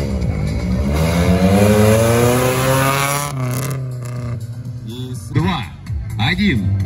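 Loud, close engine of an off-road race buggy at a Formula OffRoad trophy-sprint start, revving with sweeping pitch rises and gear changes, then receding. Excited shouting from people follows over the fading motor.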